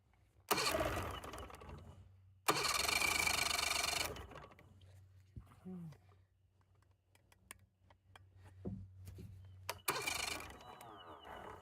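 A Mercury 70 HP outboard motor on a StarCraft boat cranks in two loud bursts of a second or more each, then a quieter stretch with scattered clicks, and a third short cranking burst near the end; no clean running engine follows.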